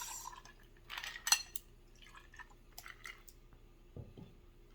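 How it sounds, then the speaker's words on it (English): A Diablo rum runner cocktail is strained and poured over ice, giving faint, soft liquid trickles and drips with a few light glassy clinks and a brief ice rattle near the end, all quiet and close. "once you strain it, you see, I'm going to pour over ice"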